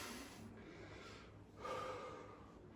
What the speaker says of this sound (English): Nice easy breaths. So in through your nose, out through your mouth.